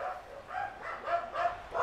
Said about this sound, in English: and I apologize for my dogs. They're barking